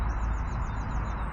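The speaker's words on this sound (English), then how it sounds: "It's beautiful, just hear the birds singing" Birds sing steadily by a farm fishing pond in spring, a repeating high trill running through the whole moment over a low outdoor rumble.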